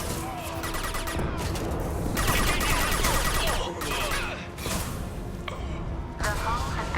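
Gunfire crackles from a Mass Effect 2 firefight in bursts of rapid shots over a dense, continuous battle din, loud and close, with clear gaps between volleys.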